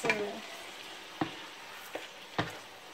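Chicken with yogurt frying in oil while being stirred constantly, a soft continuous sizzle broken by a few sharp scraping stirs.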